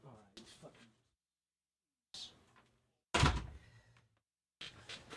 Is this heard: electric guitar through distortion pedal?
no